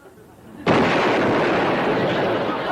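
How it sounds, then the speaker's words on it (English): A single loud, close cannon blast in a Western setting, erupting suddenly after a quiet moment and rolling on as a broad, sustained roar. "Sounded like a cannon. He's firing"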